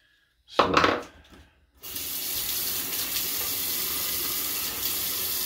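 Water runs steadily from a bathroom sink tap during a shave, a constant broadband rush that starts after a brief splash and continues alone without talk.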